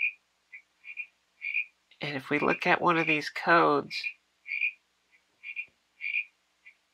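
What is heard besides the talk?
recorded frog croaks played by an MP3 player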